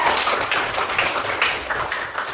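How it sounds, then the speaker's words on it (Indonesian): Classroom of students clapping hands together, a brief burst of quick overlapping claps at moderate loudness, no voices over it. "Oke, tepuk tangan dulu untuk semuanya."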